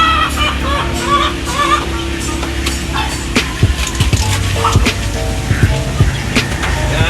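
A Jogood Gray rooster crossed with Sweater Hatch clucks in short, irregular bursts amid a busy, noisy yard with other fowl and a steady low background rumble.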